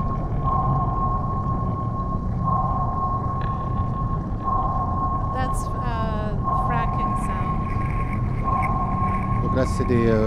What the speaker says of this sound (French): you hear the sound of the whales